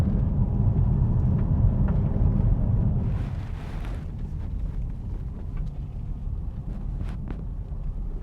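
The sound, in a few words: vehicle engine running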